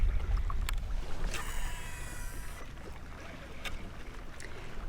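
Water sloshes and slaps steadily against a kayak hull on rough Florida water, with low rumbling wind noise throughout and a few sharp knocks.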